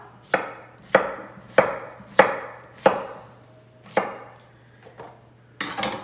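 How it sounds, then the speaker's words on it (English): Eight sharp, evenly spaced chopping thuds from a manual vegetable chopper cutting vegetable rounds, each with a brief crunchy ring, close by and alone, with a short pause before the last two. "I'm gonna cut these into smaller rounds and send them through my little chopping block."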